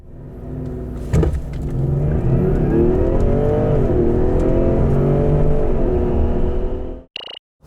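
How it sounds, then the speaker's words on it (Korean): A Ford Explorer 3.0T plug-in hybrid accelerates hard, its engine note climbing steadily through the gears for about six seconds, loud and close, then cutting off abruptly. "여기서 잠시 PHEV가 보여주는 가속 성능을 한번 볼까요?"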